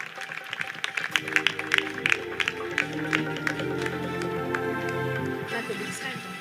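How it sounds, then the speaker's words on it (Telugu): An audience at a pre-Christmas celebration claps to welcome performers, with sharp irregular claps at first that merge into a steady, dense applause, under faint talk. "గట్టిగా చప్పట్లు కొడుతూ వారిని మనం ఆహ్వానిద్దాం"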